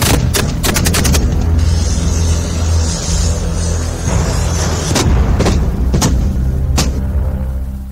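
Indian Army artillery and gunfire blasts out during the Desert Strike exercise at the Pokhran field firing range in Jaisalmer, with a rapid burst of sharp reports early on, then scattered loud booms over a constant rumble.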